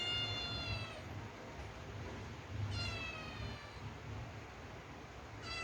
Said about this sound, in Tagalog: Ayun, nagpapapansin. Yung isa kong kuting.